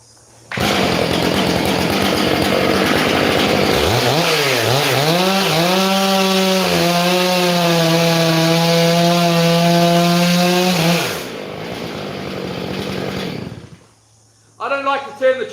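A chainsaw cuts through dry gum wood, engine roaring loud and close, pitch dipping and rising under load for several seconds, then easing off to a lower idle before stopping, followed by a few knocks.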